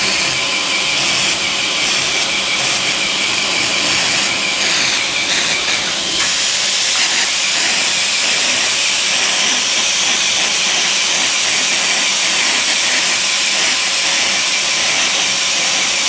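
Wagner W950 Flexio airless paint sprayer spraying paint, a loud continuous hiss that holds steady throughout, close and without any talk.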